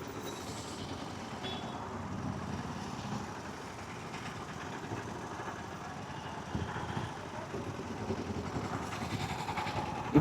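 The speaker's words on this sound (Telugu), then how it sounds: "నెక్స్ట్ లెవెల్ ఉంది ట్రాఫిక్" Heavy road traffic including trucks, heard from a motorbike on a hot day, a continuous broad rumble of engines with faint beeps and brake hiss, fairly distant and steady.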